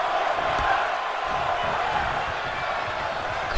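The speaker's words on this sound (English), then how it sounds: "Crowd going crazy here." A wrestling event crowd roars loudly and continuously in a dense, sustained wash of cheering and noise.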